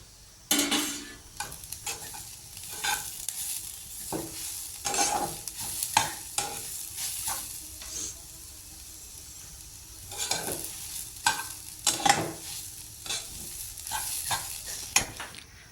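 Milk with saffron and carrots simmering in a pan, stirred with repeated scraping strokes over a soft continuous sizzle, close and moderately loud with no voices.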